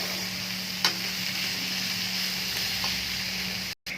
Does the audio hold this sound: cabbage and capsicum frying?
yes